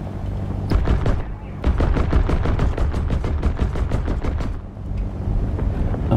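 Rapid bursts of anti-aircraft gunfire in the War Thunder combat game, dense rattling volleys filling most of the stretch with brief gaps, loud and close, alongside a droning aircraft engine.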